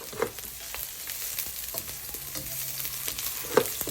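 Corned beef frying and stirred in a pan, a continuous close sizzle with scraping strokes of the spoon throughout and no talking.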